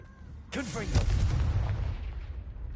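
Confringo fire spell in the video game Hogwarts Legacy: a sudden loud blast bursts out with a whooshing, crackling roar that rumbles and slowly fades over a couple of seconds, with a voice heard briefly.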